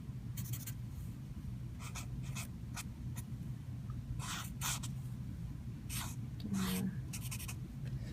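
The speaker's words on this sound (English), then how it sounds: "Trying to draw fast." Quick pencil or pen strokes scratching across paper, sketching a cartoon character in short bursts separated by pauses, close up over a steady low room hum with faint background voices.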